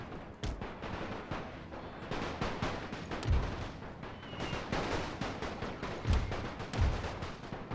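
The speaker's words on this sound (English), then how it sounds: "And then all the rifle fire that's coming in." Rifle fire crackles steadily during a massed troop advance in the strategy game The Great War 6.0, a dense continuous rattle of distant volleys broken by a few heavier low thumps.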